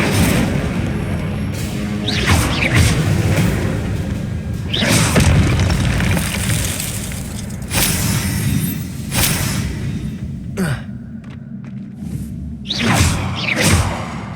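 Booming fire-spell blasts from Incendio in the Hogwarts Legacy video game whoosh and explode one after another in heavy, loud bursts over a continuous rumbling game soundscape, with no talking.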